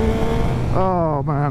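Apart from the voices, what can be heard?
Yamaha MT-09 motorcycle auto-blipper downshift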